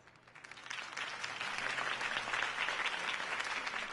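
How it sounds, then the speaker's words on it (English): Applause from a crowd follows a campaign speech for Harvey Dent, a dense wash of clapping that swells and holds steady, fairly distant and without talk. "could have heard that applause"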